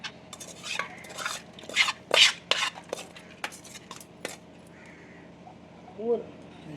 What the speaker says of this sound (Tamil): நல்லா இதை கிளறி கொடுங்க